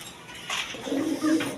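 Pigeons in a breeder's loft give a soft, low cooing that swells twice in quick succession, close by and alone after a brief rustle.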